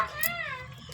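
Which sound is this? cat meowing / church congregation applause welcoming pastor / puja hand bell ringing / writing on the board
cat meowing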